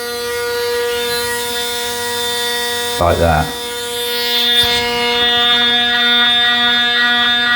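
Panasonic Series 900 Arc 5 electric shaver humming steadily with a strong buzzing drone that runs throughout, briefly interrupted as it is pressed against skin, with someone talking over it.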